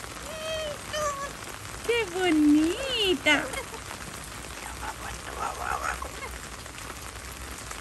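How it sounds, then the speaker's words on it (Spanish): Steady rain patter fills the background while someone speaks in a high, affectionate voice to a wet parrot, with some birdlike chirps mixed in. "qué rica lluvia"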